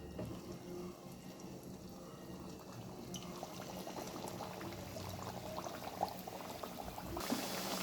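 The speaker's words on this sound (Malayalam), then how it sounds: "നമുക്ക് പരത്തി വെച്ചിരിക്കുന്ന മാവ് അതിലേക്ക് ഇട്ട് കൊടുക്കാം." Flattened dough frying in hot oil, a soft continuous bubbling sizzle that stays fairly quiet and steady throughout, with no voices.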